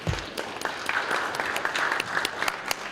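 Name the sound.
applause for the youth parliament members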